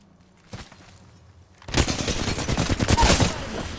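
Gunfire in a fast Apex Legends firefight: a lone shot, a short lull, then a loud rapid-fire stream of shots with sharp cracks and impacts continuing to the end.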